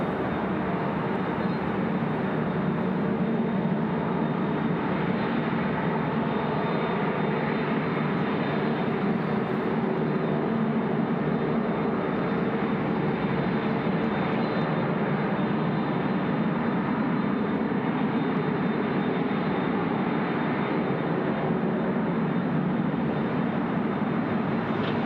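Jet airliners operating on runway 25 at Sydney Airport on a windy day, a steady, loud, broadband engine roar that holds at an even level throughout with no pauses or talk.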